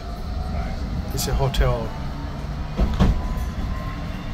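A tram runs along the line to Fleetwood Ferry with a steady rolling rumble and a few brief squeals and clacks. A person talks over the ride noise.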